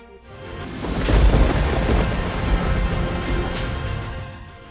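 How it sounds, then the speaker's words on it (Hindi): Deep thunder rolls and rumbles for several seconds during a heavy monsoon rainstorm in Lahore, swelling and then slowly fading with no voices. "लाहौर में काली घटाएं, बादल गरजे और जमकर बरसे।"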